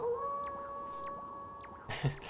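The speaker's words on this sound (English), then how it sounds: "That was Kimu's howl." Kimu howls in the Okami video game, a long, steady, tonal call that holds for about two seconds over soft ambient background, followed by a brief low thump near the end.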